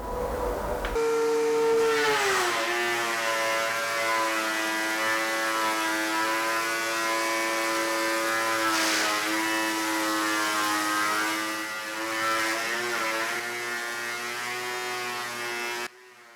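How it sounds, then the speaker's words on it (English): A wood planer runs steadily on a board, a loud sustained mechanical whine and whir with a dust collector going in the workshop, humming continuously without pause before cutting off abruptly at the end. "So I'm going to grab a board, we're going to do a little planing"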